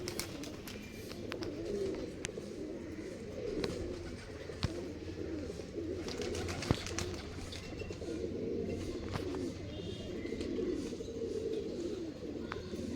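Pigeons in a loft coo in low, repeated calls, close and steady over a constant background hum, with scattered sharp clicks and no talk.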